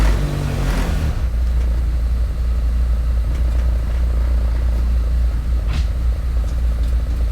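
A manual-transmission Honda Civic with its idle air control valve deleted rolls through a neighborhood, its engine a steady low rumble heard from inside the car, with a faint light bump or two over the drone.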